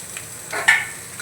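Chopped capsicum and tomato are tipped into a hot frying pan, giving a brief soft sizzle and a quick stirring scrape, quiet and close, with no talk.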